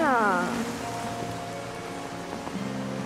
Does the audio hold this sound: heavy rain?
yes